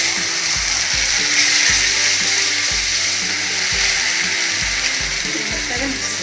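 A paste of ground coriander, ginger, garlic and green chili fries in hot oil, sizzling loudly and continuously up close, with regular spatula scrapes and a faint voice underneath.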